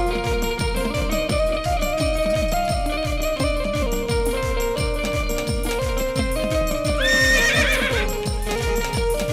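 Horse neighing sound effect set over a Ramapir devotional song, with a loud whinny rising over a rhythmic clip-clop beat and steady music throughout.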